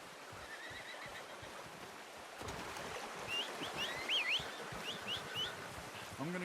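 Horse whinnying in the Red Dead Redemption 2 video game, high wavering neighs rising after a quieter opening of outdoor ambience, moderately close with faint background rustle and movement beneath.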